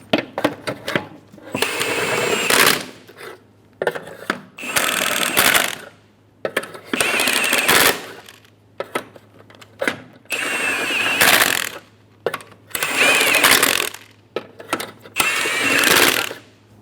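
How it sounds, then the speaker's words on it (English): Lug nuts are snugged down on the rear wheel of a 2005–2015 Toyota Tacoma during a rear shock replacement, heard as repeated close bursts of rapid metallic ratcheting separated by short pauses, over a faint steady hum. "Snug down the lug nuts."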